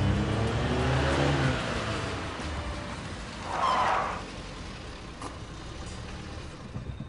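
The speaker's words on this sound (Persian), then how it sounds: "بل کن بابا گاز بده" A car engine revs and accelerates, a loud rumbling surge that rises and fades, set against continuous road or background noise, with no talking.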